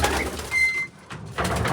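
Pet birds kept in a small home enclosure give a short burst of soft cooing and chirping calls, close and fairly loud, with a brief thin whistle in the middle.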